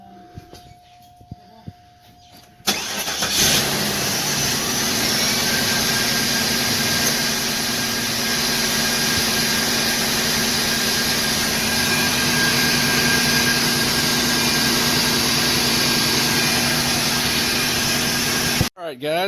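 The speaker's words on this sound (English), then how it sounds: "here we are about to start the car" A Cadillac DeVille engine cranks and fires after a quiet start, then settles into a steady, loud idle that runs for about sixteen seconds and cuts off abruptly near the end.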